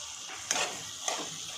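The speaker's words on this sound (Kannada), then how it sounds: "ಈಗ ಇದನ್ನು ಸ್ವಲ್ಪ ಹೊತ್ತು ಫ್ರೈ ಮಾಡ್ಕೋಬೇಕು." Mushroom and capsicum fry in a pan with coriander, cumin, pepper and fennel powder, a soft steady sizzle broken by two scraping stirs of a spoon.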